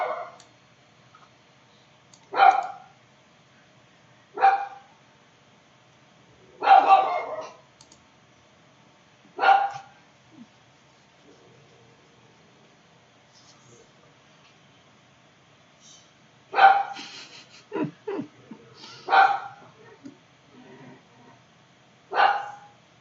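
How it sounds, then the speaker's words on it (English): A guard dog barks in short single bursts spaced several seconds apart, with a denser cluster of barks later on, fairly loud against a quiet background. "Our guard dog's back at it today."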